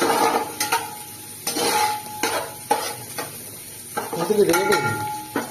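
Onions fry in a pan for chicken pulav, a steady sizzle broken by repeated stirring scrapes and clinks of a spoon against the pot, close and moderately loud, without speech.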